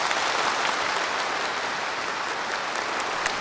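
An audience at a supermodel contest finale claps for the overall champion, a dense, sustained burst of applause heard close and even throughout.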